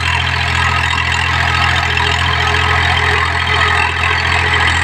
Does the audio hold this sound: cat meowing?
no